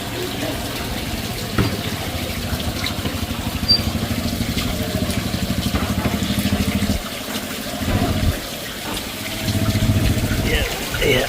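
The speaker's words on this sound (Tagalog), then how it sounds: "Lagyan natin ng tubig itong ating inuminan." Water gushes steadily into a drinking trough, a continuous pouring rush with brief pauses and surges, while voices talk over it at times.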